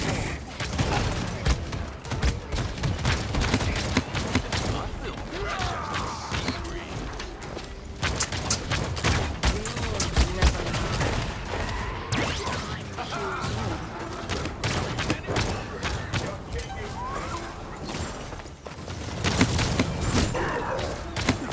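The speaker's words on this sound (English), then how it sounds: "They're firing on me." Video game gunfire bursts in dense, rapid volleys through the whole stretch, with mechanical clatter, loud and close, mixed with game voice lines and effects.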